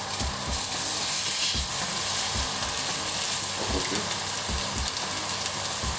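Halved eggplants stuffed with beef and chestnut sear in hot fat, giving a loud, steady sizzle and crackle close by, with low knocks scattered through the frying.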